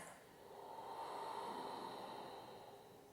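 Ujjayi yoga breath exhaled slowly through the nose, a single soft, steady airy rush lasting a few seconds, close and quiet with no talking.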